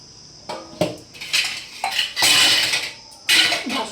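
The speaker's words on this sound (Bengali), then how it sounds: "এক গামলা ভর্তি বাসন মেজে তুলে নিয়েছি" A basin full of dishes being washed, metal plates and utensils clattering and scraping against one another in irregular, close, fairly loud knocks with wet rubbing between.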